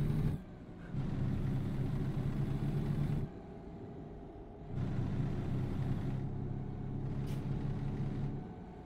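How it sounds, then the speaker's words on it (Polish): A heavy truck engine rumbling in American Truck Simulator while hauling an oversize load on forest roads, a steady low drone that surges and drops back repeatedly as the throttle changes, with no talk. "Jak tam słychać dźwięk tego silnika?"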